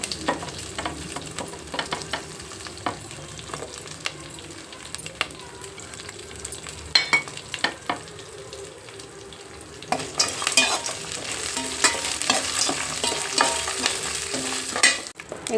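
Chana dal, curry leaves, garlic, chillies and cumin fry in a pan with steady crackling sizzle and intermittent stirring scrapes, growing livelier toward the end while a voice talks over it.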